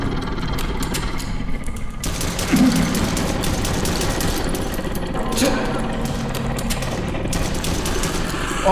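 Shotgun blasts in a haunted hospital video game come as loud dense bursts of noise, sharp onsets near 2 and 5 seconds over a steady harsh game din, with someone talking.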